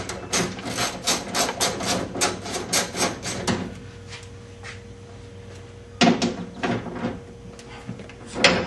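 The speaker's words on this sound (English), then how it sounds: "We're going to remove the rear window track here." Rear window track being worked loose from a classic Mustang door, with close metallic scraping and rubbing in a busy run, then a quieter stretch and a few sharp clunks and rattles, no talking.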